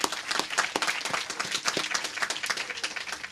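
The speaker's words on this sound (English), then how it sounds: "a round of applause for the University of Pretoria" An audience at a science reading room open house in Mamelodi gives a round of applause for the University of Pretoria: brisk, crowded clapping from many people, fairly close, with individual claps popping through the dense wash.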